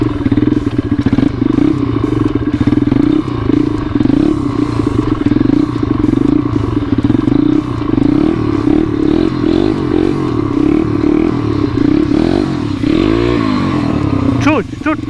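A Kawasaki motorcycle engine drones loudly and steadily up close, its somewhat hollow exhaust rumbling as it cruises, with a brief rev and rattle near the end.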